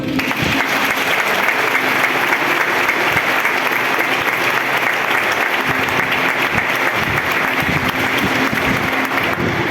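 A prayer group applauds the Holy Spirit at a Catholic gathering, loud, dense, sustained clapping from a large crowd filling the room with a few faint voices mixed in.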